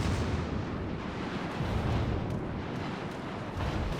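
A warship's gun salvo booms in a naval combat video game, a dense, continuous low rumble of heavy fire that stays loud throughout without any voices.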